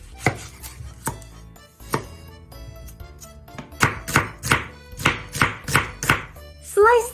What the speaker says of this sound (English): Slice the onion thinly.